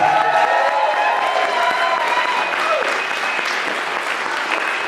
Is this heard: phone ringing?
no